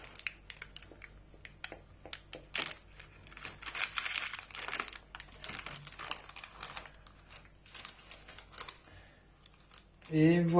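A knife slices a piece of freshly baked gingerbread cake with soft crumbly, crinkling cuts and small scrapes, fairly quiet and close. A voice briefly comes in at the end.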